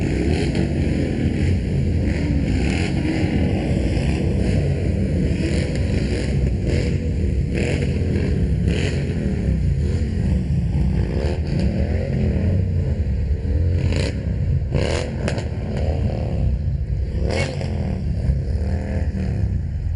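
Motorcycles from a veterans' association rev and rumble at a Veterans Day parade, a continuous loud engine roar with repeated throttle blips from several bikes close by.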